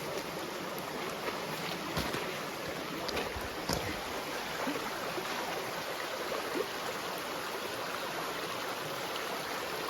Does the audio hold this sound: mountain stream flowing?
yes